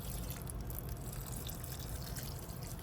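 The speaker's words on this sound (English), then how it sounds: "let's just give her a good water, because as you can see, the soil is a little bit dry" Water poured onto the dry soil of a potted tomato plant, making a steady, close, hissing trickle that runs without a break.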